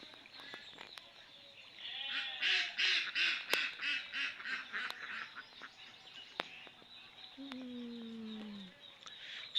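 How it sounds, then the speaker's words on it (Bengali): A flock of ducks passing in a rural village setting, a burst of rapid overlapping quacks building up near the middle before thinning out, with a few other bird calls and faint background sounds. "এক ঝাঁক এক ঝাঁক হাঁস চলে গেল"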